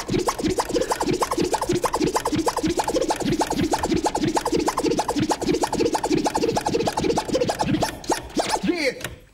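Rapid, continuous DJ vinyl scratching in the fiskekutter style, a choppy, rhythmic back-and-forth pattern, loud and close, running steadily throughout.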